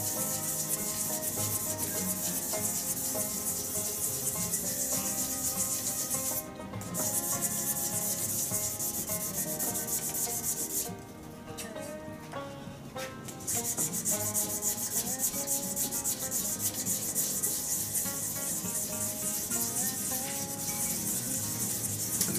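Sandpaper working over a clear epoxy resin shaving brush handle through successive grits, a continuous close hissing rub with steady strokes and two brief pauses, no talk.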